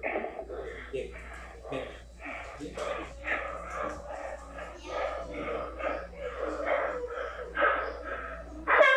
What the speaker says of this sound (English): I can hear them breathing.